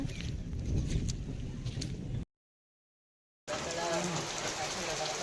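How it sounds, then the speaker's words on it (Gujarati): Light rain keeps drizzling over flooded, waterlogged fields after a long heavy downpour: a steady, dense hiss that cuts out completely for about a second and then resumes at the same level. "હજી છાંટા પડેલા છે"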